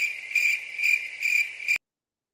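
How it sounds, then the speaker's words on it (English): Crickets chirping as a sound effect, a steady high trill in even pulses that cuts off abruptly. "Crickets."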